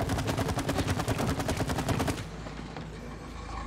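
Rapid gunfire at a shooting range in the video game It Takes Two, a fast, even string of loud shots for about two seconds, then fading into a softer background wash.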